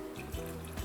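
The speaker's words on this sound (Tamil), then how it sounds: "இன்னும் கொஞ்சம் தண்ணி ஊற்றி 100 ml அளவு தண்ணி ஊற்றி மூடி" Water pours into a pressure cooker holding chana dal, a short close splashing stream with a faint hollow ring from the vessel.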